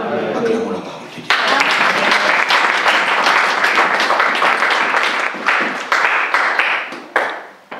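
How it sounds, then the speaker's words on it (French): A church congregation bursts into loud, dense applause mixed with cheering voices, sustained for several seconds before thinning out toward the end. "Acclamons la parole de Dieu."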